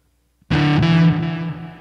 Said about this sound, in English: Sorry for the loud noise here. Loud guitar.